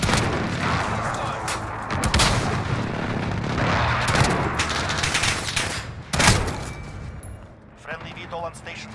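Airstrike explosions and gunfire in a first-person shooter game, with heavy booming blasts and rapid bursts of shots crowding together, loud and close, and a voice speaking over the din before it thins out near the end.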